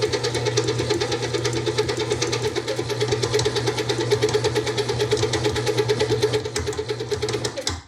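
A stand mixer with a paddle beats cream cheese rugelach dough for poppyseed rugelach, producing a loud, steady motor drone with a fast, even rhythmic churning throughout that stops abruptly at the end.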